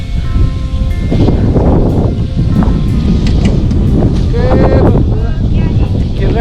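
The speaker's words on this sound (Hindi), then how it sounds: "ये देख सकते हैं काफी तेज हवा चल रहा है।" Strong wind gusting hard across a high-altitude village near the China border in Upper Subansiri, Arunachal Pradesh, loud and continuous with roaring buffeting against the microphone throughout.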